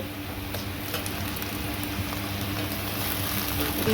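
Onions that have turned light reddish brown fry in a pan with ginger-garlic paste for chicken biryani, giving a steady, even sizzle with soft broadband hiss and faint stirring, with no talking throughout.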